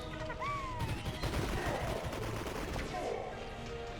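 Rapid gunfire bursts in the Mario + Rabbids Kingdom Battle game, quick crackling shots rattling in a dense cluster over game sounds and sweeping musical tones, moderately loud and fairly close.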